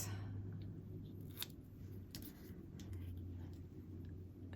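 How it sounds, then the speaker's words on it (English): Scissors trim ribbon ends on a handmade Christmas gift tag. A few faint, quick snips sit over a low steady background hum. "I'm also going to trim down these ends"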